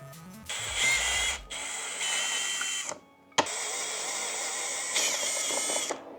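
Ratchet wrench backing out fairing bolts on an Aprilia RS 660 motorcycle, close and clear, with several long stretches of fast clicking separated by short pauses and a sharp clack in the middle.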